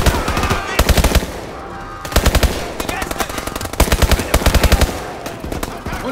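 Loud, close machine-gun fire from the video game Call of Duty: Advanced Warfare, several rapid bursts of shots separated by short pauses, with little talk over it.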